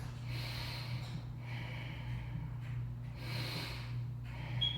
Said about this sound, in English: This is a really powerful breath, that Ujjayi breath.